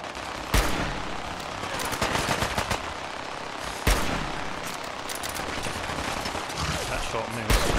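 Gunfire crackles in the video game Fallout 4. Three sharp, loud shots ring out several seconds apart over a busy, noisy game soundscape.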